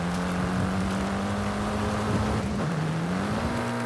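A Mitsubishi Lancer's engine drones steadily in a Forza Horizon 5 elimination race, holding a constant tone with a brief dip and rise in pitch as it shifts and accelerates. The engine runs close and loud with no talking.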